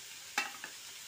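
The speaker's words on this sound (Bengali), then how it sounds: "দেখো মাছের মুড়োগুলো ভাজা হয়ে গেছে।" Fish heads frying in a pan give a low, even sizzle broken by one sharp utensil stir and a fainter second tap, short and close with no talking.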